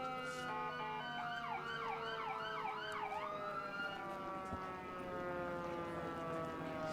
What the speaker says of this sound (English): I will say the sirens are almost in unison.